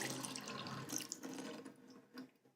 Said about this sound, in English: I must have left it running when I needed some water for my plants.